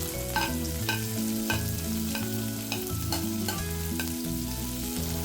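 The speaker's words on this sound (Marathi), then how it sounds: "लसण व्यवस्थित आणि मग लगेच कांदा टाकून घ्यायचा आहे" Finely chopped garlic and onion fry in a pan with a steady, dense sizzle, alongside a constant tonal background layer.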